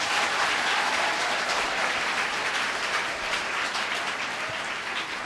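Loud, dense applause fills a hall after a Kathakali performance by Kerala artists, a steady wash of many hands clapping for over five seconds with no voices heard.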